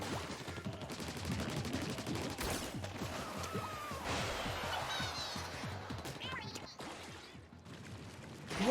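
Shooting at a boss in Splatoon produces a rapid stream of ink-gun shots with splats and crashes, mixed with game music, while a person talks over part of it.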